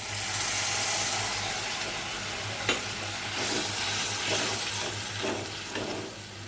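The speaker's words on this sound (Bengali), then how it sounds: "এখন আমি পেঁয়াজ রসুন বাটার এখানে যে জলটা এটা একটু দিয়ে দিচ্ছি।" Onion-garlic paste water poured into hot frying oil gives a steady, close sizzle with soft stirring scrapes and a few brief sharper crackles, no talking.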